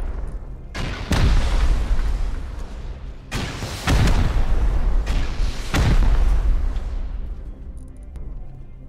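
Rocket explosions during a base raid in the video game Rust, several heavy booming blasts landing at irregular intervals over a continuous loud rumbling background.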